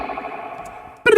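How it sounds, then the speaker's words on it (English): Kick drum soloed through spring reverb in an electronic remix: low thuds with a long metallic wash trailing behind, then a sharp brighter hit near the end, loud and with no voices. "if you hear the kick drum and the spring alone"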